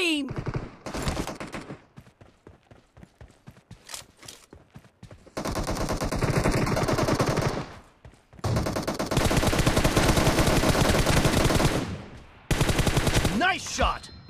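Automatic weapon fire in PUBG Mobile team deathmatch comes in long loud sustained bursts, with single shots and short gaps in between; a voice is heard in the mix.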